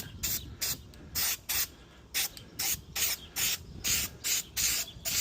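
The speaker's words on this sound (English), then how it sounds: "we're gonna give this a quick spray" Short bursts of aerosol spray, about ten hisses in an uneven rhythm, close and fairly loud, with brief pauses between each spritz.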